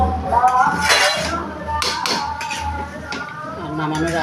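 Rice stirred in a cooking pot, with close, loud scraping and metallic clanks of a spoon against the pot, mixed under a person talking.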